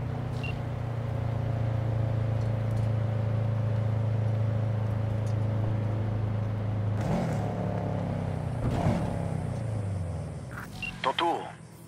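A car engine drones steadily and low while driving in the Cyberpunk 2077 video game, holding an even rumble for about seven seconds before a few sharper bumps and noises break in near the end.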